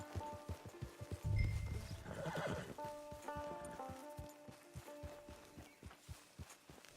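In Red Dead Redemption 2 Online, a horse whinnies loudly near the start, followed by a steady clip-clop of hooves walking at an even pace.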